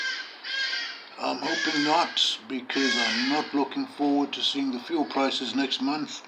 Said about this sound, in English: Excuse the birds, they're pretty noisy.